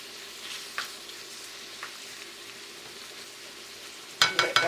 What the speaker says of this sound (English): Now I'm folding the bacon in.